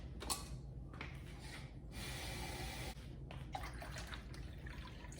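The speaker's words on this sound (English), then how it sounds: "So here I'm adding 4 cups of room temperature water" Room-temperature water being poured by the cupful into a spiritual bath, with a steady splashing stream broken by short pauses between pours, close and fairly quiet.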